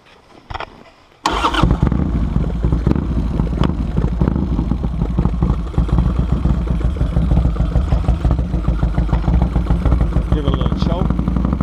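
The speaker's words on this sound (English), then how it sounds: "I'm going to start it up now. Let you hear what it sounds like." A 2002 Harley-Davidson Sportster with a Zipper Super Hammer kit cranks briefly, then fires and settles into a loud, steady, lumpy idle that runs without a break.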